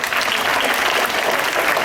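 An audience bursts into a round of applause, dense steady clapping filling the whole stretch at close, loud level with no pause.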